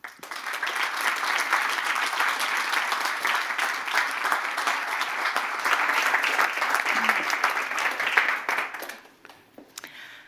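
An audience at a Better Futures Community fireside chat during Munich Creative Business Week applauds steadily to welcome Tim Brown and Kim Dabbs. The dense clapping holds for about nine seconds, then fades out.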